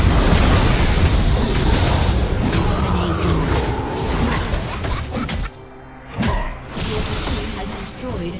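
A turret collapses in League of Legends amid a team fight: loud layered booms, crashes and whooshing impacts in game audio, easing off into brief quieter gaps near the end.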